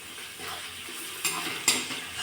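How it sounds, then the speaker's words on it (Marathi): Onion sizzles with ginger-garlic paste in a pan for a paneer curry, a steady close frying hiss broken by two brief louder bursts as the mixture is stirred, with no talking. "म्हणजे ह्या आलं लसूण पेस्ट सोबत आणि कांदा भाजला जातोय"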